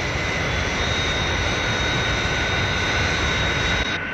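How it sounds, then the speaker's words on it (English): A model Fireflash airliner from a Lego Thunderbirds scene flies past with a steady, loud jet roar that holds level throughout, alone with no voices. "Certainly some aircraft."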